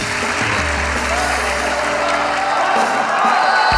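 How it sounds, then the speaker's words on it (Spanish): A crowd at a comedy show breaks into brief, loud applause, a dense burst of clapping that holds steady with faint voices mixed in. "Un fuerte aplauso para ella"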